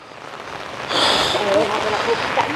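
Heavy rain pours down on a mountaintop with fog and wind in a dense, steady hiss that swells louder partway through, with no clear voices.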